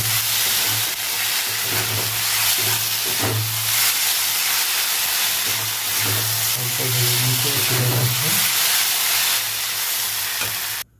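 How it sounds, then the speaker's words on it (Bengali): Sago pearls fry in ghee in a wok over a gas flame, giving a loud, even hiss with faint crackles and a low hum beneath, steady throughout. "ঘিয়ের মধ্যে সাবু দিয়ে দেবো"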